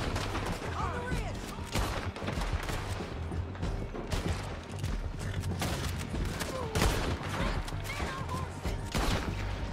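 Heavy gunfire in Red Dead Redemption 2 as a dense, loud fusillade of overlapping shots, cracks and impacts that continues throughout, with some voices mixed in.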